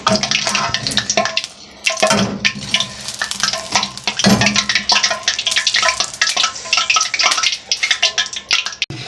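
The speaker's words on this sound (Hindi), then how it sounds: "हल्की आंच में इनको खूब फ्राई करना, जो अंदर तक जो है पक जाए" Dahi bhalla lentil dumplings fry in oil over low heat, giving a loud, dense crackling sizzle with bursts as more batter drops in and occasional clatter.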